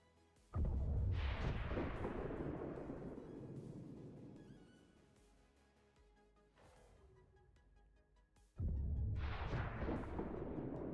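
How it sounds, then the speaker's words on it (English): A sniper cannon in XCOM LWOTC fires at point-blank range, landing as two heavy booming blasts several seconds apart, each with a long rolling decay, loud and close. "My sniper cannon at point blank range."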